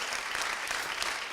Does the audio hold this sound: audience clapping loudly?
yes